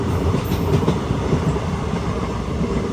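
Passenger train running on the tracks during a general-class journey from Velankanni to Madurai: a loud, continuous rumbling roll with rhythmic clickety-clack of the wheels, heard up close from inside the carriage.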